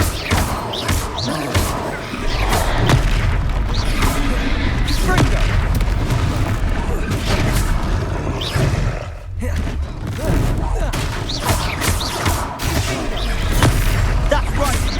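Explosive spell blasts from a Hogwarts Legacy battle, booming thuds and crashes layered over continuous combat noise and shouted voices, dense and loud throughout.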